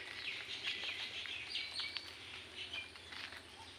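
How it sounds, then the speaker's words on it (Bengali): Morning birdsong with crows and cuckoos calling over a still, water-filled wetland in Bangladesh, heard as a steady weave of chirps and calls at moderate distance with no talking. "পাখিদের কুহু কুহু শব্দ, কাকের ডাক, কোকিলের ডাক,"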